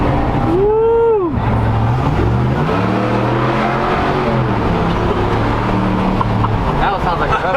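A car fitted with a Carven exhaust revs hard and close, its engine note climbing and falling in loud sweeps over a steady deep drone, with a brief higher whine near the start.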